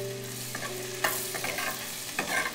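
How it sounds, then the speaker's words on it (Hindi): Ginger frying in butter for tomato soup gives a soft steady sizzle, with a few scraping stirs of the pan and small clinks, quiet and close, no talking. "अब हम इसमें अदरक डालेंगे। अदरक डालना जरूरी है और इसे हल्का ब्राउन होने तक"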